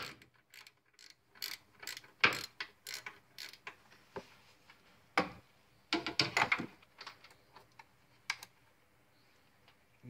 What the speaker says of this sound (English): And you just need to ratchet.